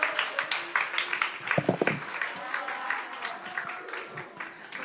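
Applause from a congregation during a Sunday evening church service, a dense steady patter of many hands running throughout, with a brief sharper burst of louder claps partway through and voices mixed in.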